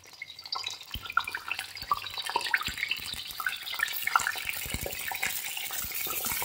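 Salted spiny gourd pieces drop into hot groundnut oil and fry with a steady, close crackling sizzle, scattered sharp pops rising over a continuous bubbling hiss that thickens as the pan fills.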